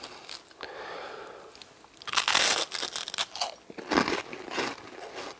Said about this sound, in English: I take a bite of the toast.